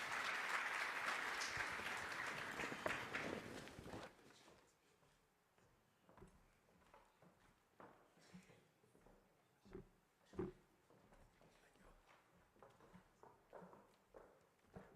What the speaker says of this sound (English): I think we can give them a round of applause